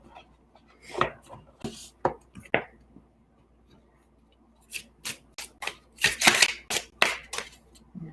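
Delicate tarot cards being shuffled by hand in irregular bursts of soft riffling and sliding, close up in a quiet room, with a pause in the middle before a denser flurry.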